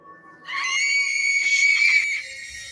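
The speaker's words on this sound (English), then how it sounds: "Such a weird scream." A single eerie, high-pitched scream rings out in thick woods for about a second and a half, shrill and wavering, then cuts off into quiet.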